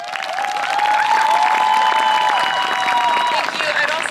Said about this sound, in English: huge, huge round of applause to the performers today.